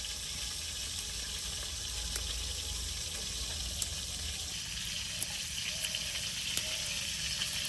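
Soft, steady sizzling of food frying in a pan, a continuous low hiss with faint clicks, no one speaking.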